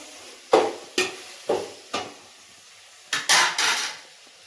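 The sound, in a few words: tomatoes being added and fried in a pan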